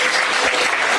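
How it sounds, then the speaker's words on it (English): Loud, dense applause from a crowd for Minneapolis mayor Jacob Frey, close and continuous, a short burst of many people clapping together with no speech. "Those people clapping escaped Somalia"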